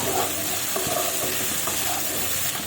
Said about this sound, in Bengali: কুচিয়ে রাখা পেঁয়াজ কুচি আর এই যে টমেটো কুচি আর পেস্ট সমস্ত কিছু দিয়ে দেবো একটু ভালোভাবে নাড়াবো